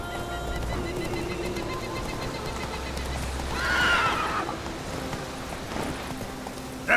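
Horse in The Witcher 3 video game gives a loud whinny mid-clip, with soft hoof clip-clops and ambient game sound around it.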